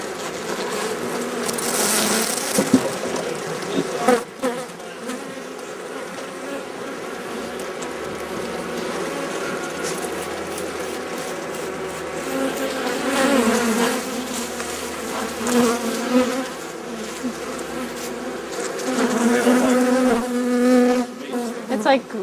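Honey bees hum steadily and densely around an open hive during the first inspection of the season, a close, continuous buzz that swells and fades with passing bees and faint handling noises.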